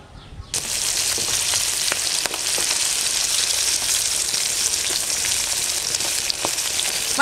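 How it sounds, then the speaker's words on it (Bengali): Fish frying hard in a pan of bubbling oil, a dense steady sizzle that starts abruptly and continues close and loud throughout, with occasional sharper pops and crackles. "তেল ফোটে"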